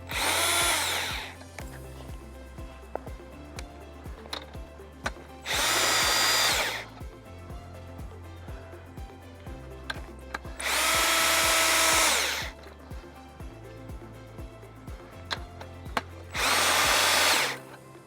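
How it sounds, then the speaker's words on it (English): A power drill with a 3/4 inch socket tightening bolts on a personal watercraft lift whirs in four short bursts separated by pauses, with light clanks and rattles of metal in between. "I can also use a drill with a 3/4 inch socket"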